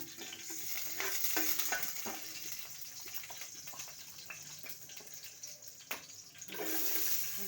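Whole spices, cardamom, biryani flower, caraway and cloves, frying in hot oil for a quick rice dish, a soft continuous sizzle with occasional stirring scrapes, fairly faint and close, with no voices.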